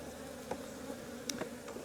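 Honeybees buzz around a hive comb being handled during a hive split, a close, steady drone with a few louder passes as individual bees fly near.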